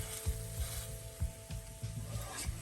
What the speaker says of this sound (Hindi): इसी तरह स्पैचुला का बैक साइड से दबाते जाए और पकाएं।